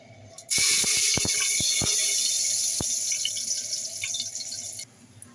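Whole garam masala drops into hot oil in a pressure cooker and bursts into a loud, sudden sizzle with sharp pops, hissing steadily for a few seconds before cutting off.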